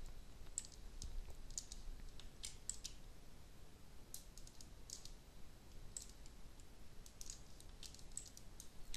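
Computer mouse clicks while working in Photoshop, including a double click: faint, crisp ticks scattered irregularly over a low steady background hiss, close to the microphone with no talking.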